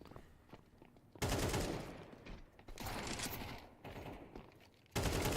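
Gunfire from a Counter-Strike 2 match: loud bursts of automatic fire and shots that come in several separate clusters with brief gaps between them, close and with no talk over them.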